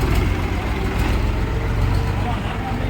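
A farm tractor engine runs in a loud, steady low rumble close by, droning evenly without letup.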